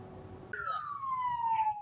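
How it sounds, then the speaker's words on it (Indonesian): Police traffic sirens across Aceh sound at 8 a.m. to honor victims of the tsunami on its 20th anniversary. A single clear siren wail starts abruptly and glides slowly downward, loud and fairly near, over faint background noise. "personil Ditlantas dan Polantas jajaran seluruh Aceh membunyikan sirine sebagai simbol duka dan penghormatan terhadap para korban tsunami"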